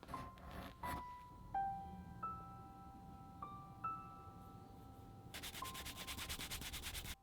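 Tokonol finish is rubbed onto the edge of a leather bracelet strap, a faint close friction with small squeaky tones, ending in a steadier, brisker rubbing stretch.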